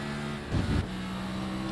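A NASCAR Truck Series truck, heard onboard on track, downshifts into second gear through the carousel. A steady engine drone carries a short, louder blip of revs midway, with no talking.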